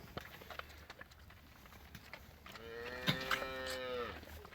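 An Angus cow on a farm lets out one long, drawn-out moo in the second half, fairly close, over faint background rustling and thumps.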